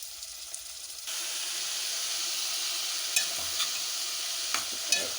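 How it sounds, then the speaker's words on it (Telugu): Eggplant pieces added to onions, green chilies and dried red chilies, browned in hot oil, set off a loud steady sizzle after a quieter start, with occasional stirring clinks near the close. "ఎండుమిరపకాయలు, ఉల్లిపాయలు, పచ్చిమిరపకాయలు బ్రౌన్ కలర్లో వేగిన తర్వాత వంకాయ ముక్కలు వేయాలి."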